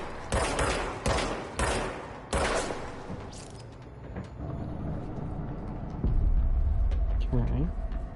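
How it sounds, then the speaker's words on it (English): Gunfire in the video game Control: several sharp, loud shots in quick succession early on, then a lower rumbling stretch. A voice talks over the action. "now I have a gun"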